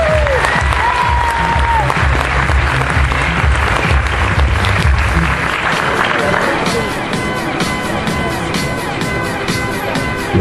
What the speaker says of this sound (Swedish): Är de inte lite applåder här idag?